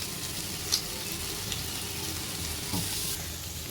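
Vegetables sizzle steadily in hot oil with spices for Maggi noodles, a soft, continuous frying hiss broken by a few brief clinks of a spoon against the pan.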